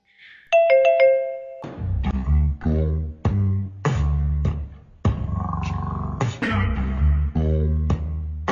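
A bright two-tone doorbell chime rings out near the start, close and clear, then gives way to loud, dense music with a steady beat that fills the rest of the clip.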